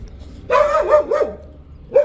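A nearby dog lets out a wavering, yelping bark, then a short pause and one more quick yip.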